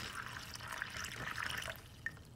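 Water is poured into a container during a ritual, giving a soft trickling, splashing fill with a few bright drips near the end, fairly quiet and close, with no voices.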